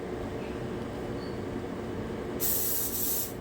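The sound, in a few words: spraying cooking spray on a baking dish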